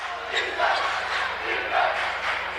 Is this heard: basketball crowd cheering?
yes